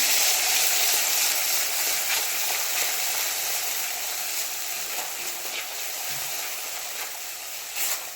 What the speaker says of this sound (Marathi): आता त्यामध्ये जे आपण वाटण केलं आहे काजू कांदा खसखस आणि तीळ ते आपण ह्यामध्ये मिक्स करून घ्यायचं